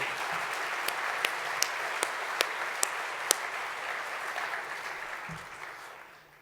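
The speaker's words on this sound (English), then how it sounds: "can we have one more round of applause for the Franz Edelman finalist teams of 2017?" A gala audience gives a sustained round of applause for the 2017 Franz Edelman finalist teams, a dense wash of clapping from a large hall, with a few sharp, evenly spaced louder claps standing out before the applause fades away.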